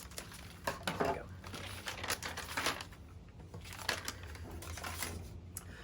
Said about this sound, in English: it's actually probably easier to cut once I get it started, if I just slide, as opposed to trying to cut